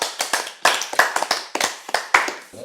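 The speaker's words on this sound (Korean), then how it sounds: "박수 한번 주세요" A small group claps hands at a casual drinking gathering after an ice-fishing outing, about a dozen sharp, close claps in uneven bursts with no talk over them.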